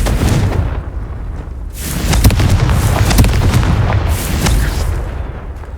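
The Confringo explosion spell in the Hogwarts Legacy video game goes off with loud, continuous booming blasts and rumble. The dense, sustained bursts carry no speech.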